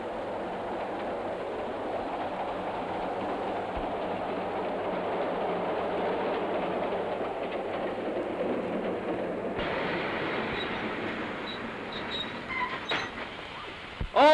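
A train rolls steadily into the border station at Albury with a continuous rumble and clatter of carriages, then brakes and metal squeals rise near the end as it comes to a stop.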